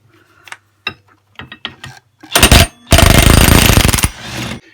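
A power tool rattles loose the variator nut on a Peugeot Speedfight 4 scooter, with a few short clicks leading into two loud, close bursts of rapid hammering, the second longer, then a softer trailing whir.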